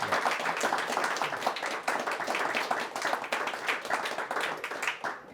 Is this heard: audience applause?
yes